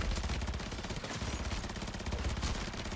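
Rapid automatic weapon fire in the video game MW3 Zombies, a dense, loud, continuous burst of shots with no pauses.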